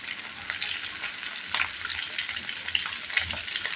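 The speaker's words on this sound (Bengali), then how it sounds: "দেখুন আমার কই মাছগুলো কিন্তু ভাজা হয়ে গেছে" Koi fish frying in oil in a pan, a steady close hissing sizzle with small crackling pops throughout and no talk.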